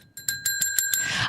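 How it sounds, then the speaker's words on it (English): A bicycle bell dings in a quick run of about six bright, ringing strikes, close and clear, with no talking. "I'm just trying to ding my bell."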